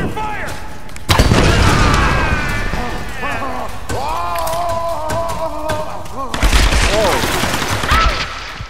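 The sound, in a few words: gunfire in the video game Tomb Raider (2013)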